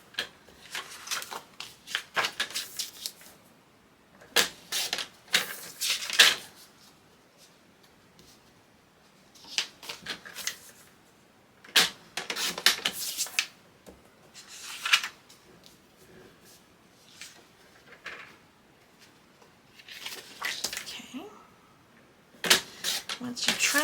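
Papers for a scrapbook folio are trimmed in repeated bursts of crisp cutting and paper rustle, close and fairly loud, with quiet pauses between the bursts.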